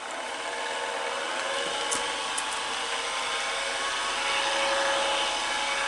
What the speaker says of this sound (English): Okay, so I'm going to turn the lathe on now.